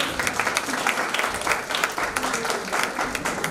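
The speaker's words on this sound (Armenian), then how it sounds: "ծափահարել։" Audience applauding at a kindergarten autumn event in Vanadzor, Armenia, a steady, even wash of many hands clapping throughout with some voices mixed in.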